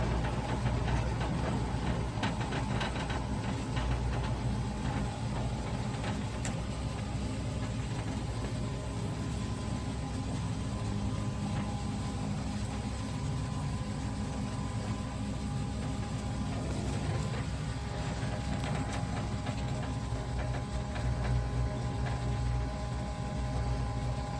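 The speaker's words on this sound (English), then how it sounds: "Give you a sound at the tailpipes." A custom 1953 Chevy pickup idles at the tailpipes, its exhaust giving a steady, low, continuous rumble heard close and alone, without talk, holding an even level throughout.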